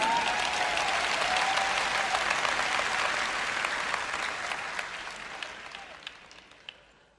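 Conference audience at a church event applauding in a dense, sustained wash of many hands, loud at first and gradually fading, with a few isolated claps at the tail.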